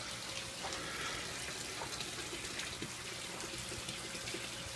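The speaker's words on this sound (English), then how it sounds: "You can hear the siphon, the bell siphon" An aquaponics bell siphon drains with a soft, continuous gurgle and trickle of water, faint and steady with small splashy bursts.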